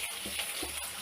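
Onion frying in a pan gives a steady, soft sizzle over one second, with a few faint stirring scrapes.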